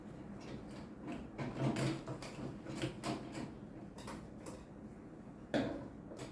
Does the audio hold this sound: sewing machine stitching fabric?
yes